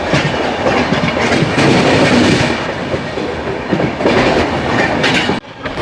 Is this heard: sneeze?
no